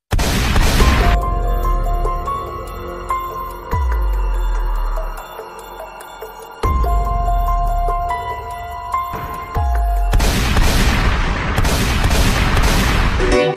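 Gunfire from a bulletproof suit being tested at a shooting range with .22 and .40 caliber rounds: several loud, abrupt bursts of shots separated by pauses, heard over steady background music.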